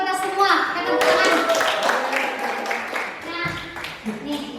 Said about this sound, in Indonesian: Kita beri tepuk tangan dulu buat kita semua.